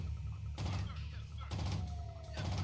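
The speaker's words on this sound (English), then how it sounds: "Why do I hear a Vulcan cannon?" Vulcan cannon fire in the real-time strategy game Command & Conquer: Tiberian Sun, sounding as repeated dense bursts of rapid gunfire amid battle noise, fairly loud and close with no talk.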